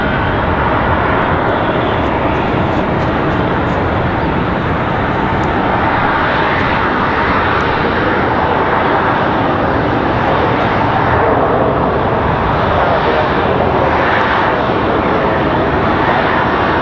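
An Aeromexico Connect jet airliner arriving at Raleigh-Durham airport after the flight from Mexico City, its engines making a loud, steady, broadband roar that holds without a break for about seventeen seconds, with no talk over it.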